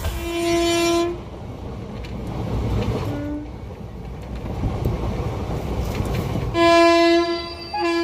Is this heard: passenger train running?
yes